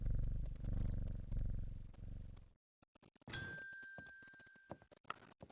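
A cat in the game Strange Horticulture purrs when petted, a low rhythmic rumble in several pulses, then a bright ringing chime with clicks. No voices.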